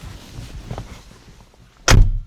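Soft handling and rustling near a 1993 Volvo 240, then a single loud solid thud of its door shutting close by.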